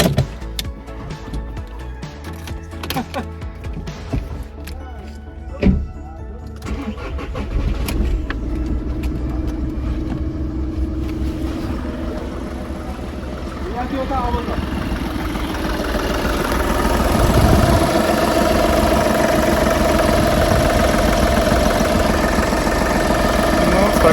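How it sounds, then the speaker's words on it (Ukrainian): A Skoda Fabia Combi Greenline car engine cranks and fires up from a cold start, then settles into a steady, rumbling idle that grows fuller and louder over time, with brief voices early on. "Так, зробимо холодний запуск."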